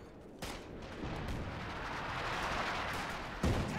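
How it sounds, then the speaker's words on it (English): Grenade blasts in a Company of Heroes 2 match: a sharp thump opens, a sustained rumbling wash of battle noise follows, then a second abrupt blast near the end, with no talk over it. "Those nades are going in."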